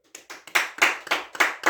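A church congregation claps rhythmically, about seven sharp claps in quick steady time, close and moderately loud.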